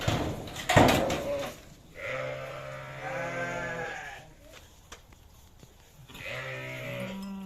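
Sheep bleat repeatedly, with long wavering calls from ewes with lambs while their barley and oat feed is prepared at a farm selling sacrificial rams. A loud knock sounds early on, and the bleats overlap in a nearby pen.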